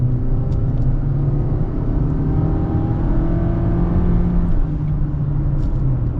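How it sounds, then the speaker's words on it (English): A 2023 Honda CR-V EX-L accelerates from inside the cabin, with a steady, loud engine and road rumble that builds gradually and holds for the whole stretch, and no talking. "we are going to get up and get our acceleration here"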